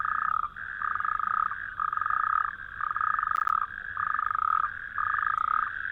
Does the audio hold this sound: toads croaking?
yes